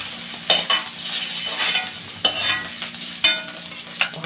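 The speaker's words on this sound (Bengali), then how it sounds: "মাশরুমগুলো পুরোপুরি ফ্রাই হয়ে গেছে" Mushrooms fry in oil in a kadai, a steady sizzle broken by several sharp scrapes and clinks as a utensil stirs them against the metal pan, close and without talk.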